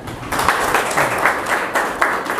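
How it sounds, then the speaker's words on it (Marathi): An audience applauds at a guidance lecture held for a cooperative credit society in Shahapur, with steady, sustained clapping from many hands and no voices over it. "त्यांच्यासाठी टाळ्या वाजवा"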